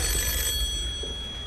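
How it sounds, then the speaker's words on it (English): A telephone rings on a TV game-show set, a steady electronic ring with sustained tones running through the whole stretch at moderate level, with no talk over it. "This is a phone, by the way. There's a banker on the end of it."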